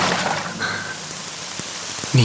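Steady rain falls nearby in a dense, even hiss, with a few sharper drop hits near the end.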